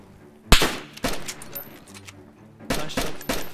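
Gunfire in DayZ Standalone: several loud, sharp shots in quick bursts, a single report followed by a pair and then another close cluster, each with a short tail.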